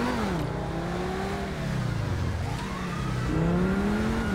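Car in the GTA V video game pulling away slowly, engine rising and falling in pitch as it gently accelerates, a steady close motor drone with no talk over it.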